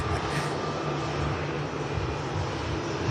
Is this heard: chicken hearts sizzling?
no